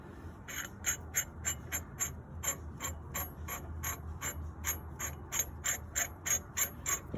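A brake caliper piston compression tool is twisted on a 2000 Toyota Celica GTS front brake, giving a quiet, rapid series of evenly spaced ratcheting clicks close by, with no talking.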